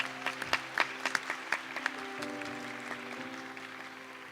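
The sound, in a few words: congregation applauding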